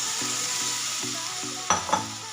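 Cooked vegetables being stirred into a sizzling pav bhaji masala in a pan, with a steady broadband fry hiss and a few soft spoon scrapes and clunks near the end.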